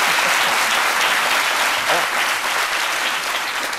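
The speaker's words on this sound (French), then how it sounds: "Ça mérite applaudissement." Audience applause on a French-language midday TV talk show, dense and loud, rolling steadily for several seconds with voices faintly mixed in.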